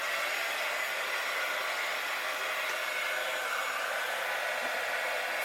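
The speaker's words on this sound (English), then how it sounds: "Now I'm going to put the heat gun," Heat gun blowing hot air onto a junk journal cover, a steady, loud broadband whoosh that holds constant throughout with no talking.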